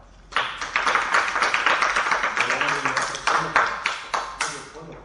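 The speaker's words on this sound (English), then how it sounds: "Clap hands for her." Students in a classroom clap their hands together in a dense, steady burst that lasts several seconds and stays fairly loud and close before it tapers off.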